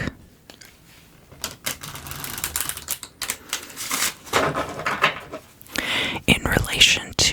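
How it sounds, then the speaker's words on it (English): Tarot cards drawn from the Enigma deck, soft papery shuffles and flicks with light taps close to the ear, intermittent and gentle, under quiet whispering in an ASMR setting. "I'm going to draw some cards from the Enigma deck."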